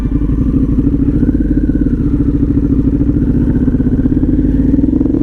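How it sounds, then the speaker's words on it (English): Harley-Davidson Pan America motorcycle engine running steadily at a high idle, a close, loud continuous rumble with fast even firing pulses and light mechanical clatter throughout. "It's running at a real high idle."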